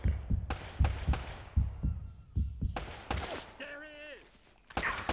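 Gunshots in the video game Uncharted 3, a series of sharp cracking shots in an irregular burst, loud and close, with a voice and game sounds between them.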